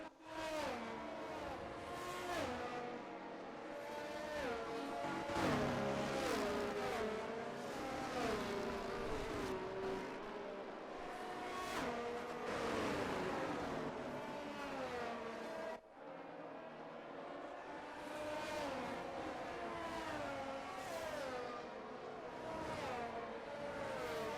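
Several race cars on the formation lap at the Monza Grand Prix, engines revving and weaving loudly and continuously for the whole stretch, with shifting pitch as they pass and warm their tyres, a brief dip midway.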